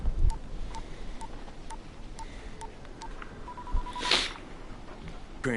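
Phone keypad tones from the Dying Light video game, a series of short evenly spaced beeps followed by a longer tone, with a brief burst of noise near the end.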